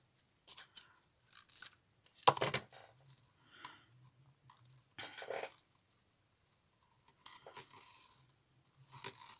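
Scissors snipping through ribbon or string for a December scrapbooking craft: scattered short crisp cuts and rustling handling, close and quiet, with no talk.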